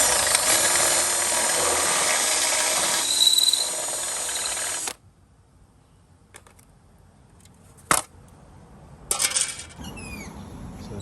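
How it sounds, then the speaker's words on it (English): A power drill whirs loudly for about five seconds while drilling out pop rivets on a 60 series Toyota, then stops; a few short mechanical bursts and clicks follow after a quiet pause. "so we're going to have to drill out those rivets."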